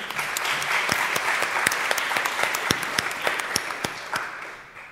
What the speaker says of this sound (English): I think we can give the filmmaker a round of applause.